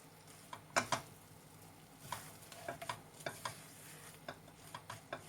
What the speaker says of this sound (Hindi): इसको वेरी धीमी आग पे पकाना है, लो भी हीट पे।